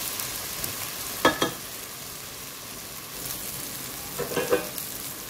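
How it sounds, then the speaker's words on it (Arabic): Onions, tomatoes and chili peppers fry in a pan for an Indian meat and moringa curry, a steady soft sizzle broken by two short bursts of scraping as the mixture is stirred. "نضيف الطماطم والفلفل الحار ونحرك تقريبا مدة دقيقتين حتى"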